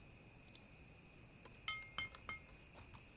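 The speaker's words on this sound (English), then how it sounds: "I don't know if the cricket sound in the winter area makes a hell of a lot of sense" Crickets chirping in a winter area of the video game Citadel: Forged with Fire, a steady high trill with a few brighter chirps and clinks, faint and alone with no talk.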